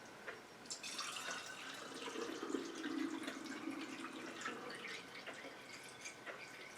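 A soft, steady trickle of strained herbal vinegar pouring into a container, heard up close with faint drips.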